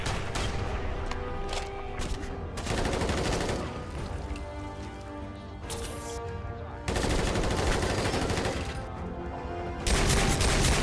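Rapid gunfire in the Fallout 4 video game, with loud bursts of shots fired in quick succession and short pauses between volleys, fairly close and continuous across the whole stretch.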